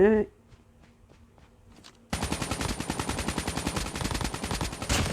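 Rapid automatic gunfire in the Call of Duty Mobile video game starts abruptly after a short quiet stretch and runs as a dense, loud stream of shots. A brief voice is heard at the very start.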